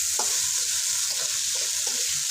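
Pre-boiled, previously frozen vegetables with peas and carrots sizzle lightly in a pan, with a few distinct stirring scrapes spaced through a constant frying hiss.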